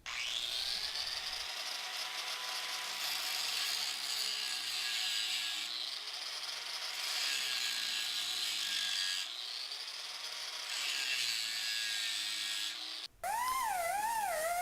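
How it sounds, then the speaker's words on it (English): A hand-held angle grinder fitted with a grinding disc bites into rusted steel on the inner windshield frame of a 1943 Willys MB WW2 jeep, giving a loud, continuous high-pitched whine and scrape for about thirteen seconds before cutting off, then a brief tonal squeal. "take the angle grinder with a grinding disc on it, and we're going to grind all this metal out."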